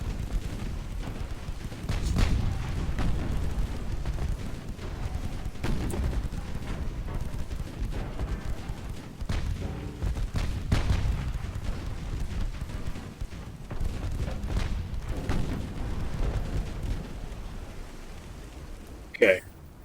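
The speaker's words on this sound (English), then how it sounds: "You are firing at her stern." Naval artillery fire in Ultimate Admiral: Dreadnoughts comes as repeated dull, booming thuds at irregular intervals over a constant low rumble, fairly distant and muffled, with a sharp click near the end.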